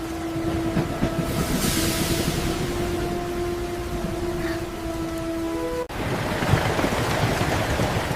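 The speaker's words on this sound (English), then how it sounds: "But the train is leaving!" Train rumbling and clattering steadily at a station as it pulls away, with a sustained high tonal whine over the rolling noise and a sudden change in the rumble near the end.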